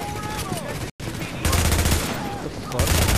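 Dense gunfire from other players in The Division's Dark Zone crackles loudly and continuously, with heavier bursts kicking in after a brief dropout, amid busy game effects.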